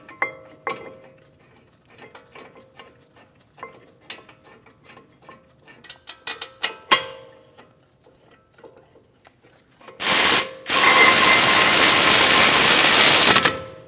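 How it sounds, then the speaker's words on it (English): A ratchet spins caliper bracket bolts into a 2010-2015 BMW X1 xDrive front brake in a string of quick, close clicks. A loud, sustained hiss follows near the end. "Install the caliper bracket and get the bolts started."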